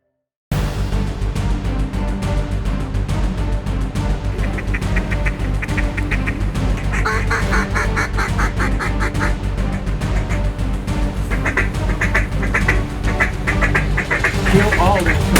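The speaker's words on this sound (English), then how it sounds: "the ducks come in there just the same" Ducks quack repeatedly on a flooded willow-tree island, their calls steady and fairly close, mixed with a constant outdoor rumble and people talking throughout.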